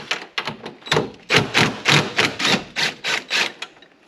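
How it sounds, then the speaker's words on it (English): Ratchet wrench turning a bolt on a car, a close, steady run of about a dozen sharp clicking bursts in an even back-and-forth rhythm, with no talk. "I'm probably going to have to use a ratchet on that one over there"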